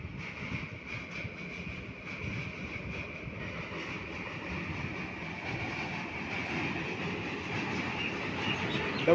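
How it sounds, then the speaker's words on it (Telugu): Indian train with a WAP4 electric locomotive crossing a railway bridge near Dusi station, a steady continuous rumble with rolling wheel noise that holds level and builds slightly toward the end, heard at moderate distance with no talk. "ఆ బ్రిడ్జ్ పైన ఒక ట్రైన్ వస్తుంది."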